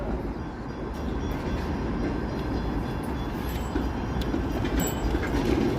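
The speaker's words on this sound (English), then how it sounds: "509 Harbourfront streetcar." A Toronto 509 Harbourfront streetcar rolls past on an evening city street in summer, a steady broadband rumble of wheels and traffic noise that holds fairly constant throughout, with no talk.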